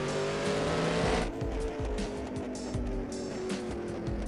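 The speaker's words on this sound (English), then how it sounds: "Let's go ahead and throw this thing on the dyno just to see what it'll make." A car engine in the No Limit 2 video game revs hard on a dyno, loud and sustained, then drops to a lower, steady drone with a few sharp pulses.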